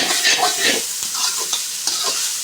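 A spoon stirring egg rice in a hot pan, scraping and sizzling in steady, close strokes with a constant frying hiss underneath and no talking.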